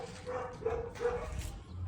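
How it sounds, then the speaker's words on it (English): Dogs yip and whimper in short bursts in the background of an outdoor car wash, fairly close and steady, mixed with faint ambient noise. "Sorry about the dogs barking if you guys can't hear me."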